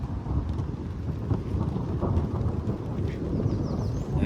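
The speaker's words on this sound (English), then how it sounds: "Now it's thundering good behind us." Thunder rumbling during a thunderstorm, a continuous low heavy roll with rain noise underneath, loud and steady across the whole stretch with no talking.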